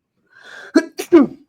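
One sharp sneeze, close and loud, preceded by a brief breathy intake and split into a couple of quick bursts, with no talk around it.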